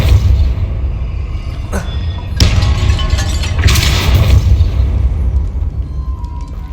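Depulso spells cast in Hogwarts Legacy, several loud booming magical blasts with crackling bursts over a low rumbling background, heard close and alone without talk.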